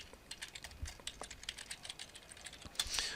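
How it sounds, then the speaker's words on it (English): Typing on a computer keyboard while working with the text tool in Photoshop: a quiet, steady patter of light key clicks with a few louder taps near the end, heard alone with no talking. "and I can just start typing"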